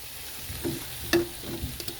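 Minced garlic and red chili pepper from a jar hitting a pan of sautéing vegetables, giving a soft close sizzle with a few brief stirring scrapes and clicks.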